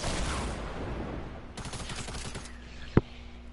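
Gunfire in the Fortnite Battle Royale video game rattles in dense bursts, with a rapid fusillade of shots in the middle and one sharp loud report near the end over steady game ambience, no talk.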